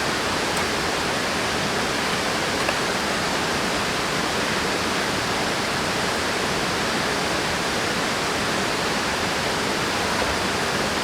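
Flowing stream water rushes in a steady, dense wash at close range, unchanging and uninterrupted, with no voices.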